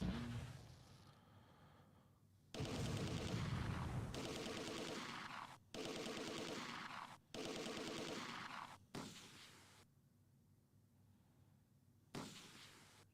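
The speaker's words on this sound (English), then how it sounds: "Mortars are coming in now." Incoming mortar fire in the video game Close Combat 2: A Bridge Too Far, heard as faint, distant blasts and rumbling bursts arriving in a run of roughly evenly spaced waves, with quieter gaps between them.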